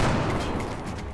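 Gunfire in the XCOM video game, a brief dense burst of shots heard close and fairly loud for about a second, with no talking.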